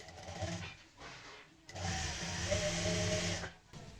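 A sewing machine stitches a neck design with anchor thread, running in short bursts: two brief runs, then a longer stretch of steady motor whir of nearly two seconds, close and moderately loud.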